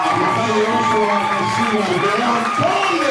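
A church congregation's many voices rise together in loud, sustained acclaim and cheering, a dense, steady wall of shouting and voices with no pauses.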